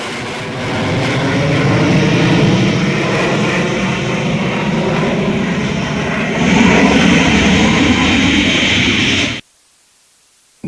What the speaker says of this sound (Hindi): दोनों देशों के एयर चीफ ने फाइटर जेट्स में करीब 1 घंटे तक उड़ान भरी